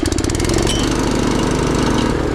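An air compressor starts up and runs with a loud, close, steady mechanical chugging and rapid pulsing rattle that holds an even rhythm throughout.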